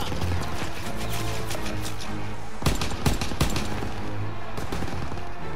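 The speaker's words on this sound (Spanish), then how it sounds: "¡Fuego de cobertura!" Covering machine-gun fire in the Call of Duty WWII game roars in dense, continuous bursts with sharper cracks mixed in, loud and close, filling the whole stretch without a pause.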